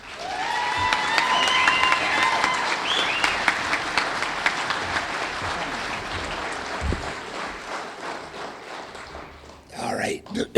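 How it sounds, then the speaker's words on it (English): Audience at an awards banquet for a Southeast Gassers drag racing championship breaks into loud, sustained applause with some cheering that fades over several seconds, followed by a few words from a speaker at the end. "So let's hear it for Danny and Bully."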